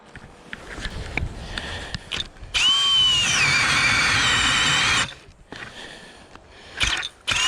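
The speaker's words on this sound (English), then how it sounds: "rigid drill with those 4-amp-hour batteries" A Ridgid cordless drill with 4-amp-hour batteries whines loudly for a couple of seconds as it bores through ice while ice fishing, bracketed by scraping and handling sounds outdoors.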